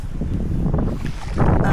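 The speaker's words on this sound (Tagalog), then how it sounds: "Tapos grabe ang hangin." Strong wind buffets a small boat out on the water, a rough low roar that rises in gusts and thumps against the microphone.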